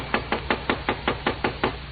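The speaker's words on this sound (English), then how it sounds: "20 minutes passed before we heard the knock on the door." Door knocked on in an old radio drama, nine even, steady raps at a brisk regular rhythm, close and clear with no voices over them.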